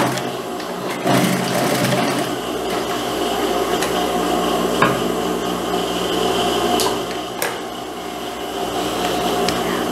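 A sewing machine stitches the cuff end of a jacket sleeve with a sport collar, running steadily and fairly close for the whole stretch with a few brief mechanical knocks along the way.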